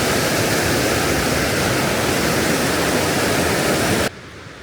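Peričnik waterfall in the Vrata valley roars as a loud, dense, unbroken rush of falling water, cutting off abruptly near the end.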